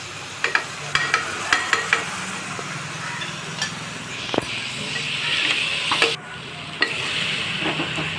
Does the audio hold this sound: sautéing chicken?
yes